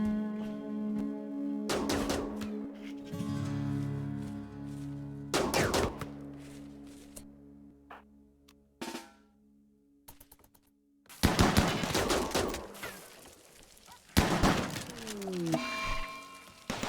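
Bursts of rapid gunfire from a steel mini turret in the colony game Rimworld, several separate volleys of sharp crackling shots spaced apart across a quiet, tonal game soundscape.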